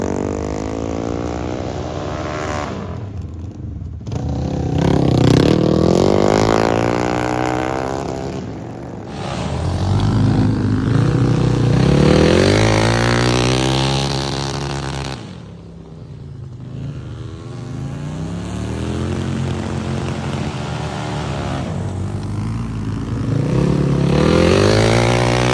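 A flat track racing motorcycle ridden on a racetrack, passing repeatedly with engine pitch rising and falling through rev sweeps, loud when near and fading between passes, with no talking.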